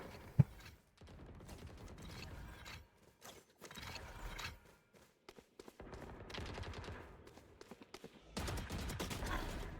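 Rapid bursts of automatic gunfire in the shooter game Valorant, broken up by short pauses and mechanical clicks, with one sharp loud crack near the start.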